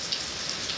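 Heavy daytime rain falling steadily, a dense even hiss of drops hitting surfaces, constant and moderately loud across the short stretch.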